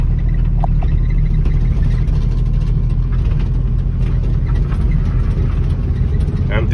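A classic Ford Mustang with an early C4 automatic transmission runs on an empty road, a loud steady low engine rumble and drone throughout with no talking.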